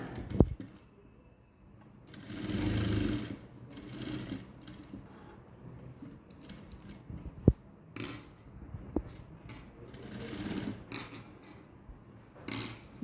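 A sewing machine stitches a blouse neckline in short, intermittent runs of mechanical whirring, separated by quiet gaps with soft handling clicks, close by and with no talk.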